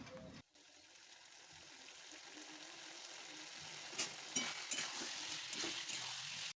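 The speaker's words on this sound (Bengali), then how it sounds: "আলুটার সাথে আমি মশলাটা আরও বেশ কিছুক্ষণ কষে নেব" Spice masala cooks with fried potatoes in a pan for a chhana bora curry, a soft steady sizzle with quiet stirring scrapes growing slightly busier toward the end, faint and close.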